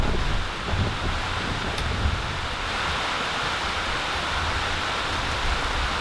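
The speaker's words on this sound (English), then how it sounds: "It's always raining." Steady rain falls outside during work on an ambulance conversion, a dense, even hiss with no pauses throughout.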